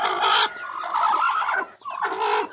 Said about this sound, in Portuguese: Barulhenta, ela vai botar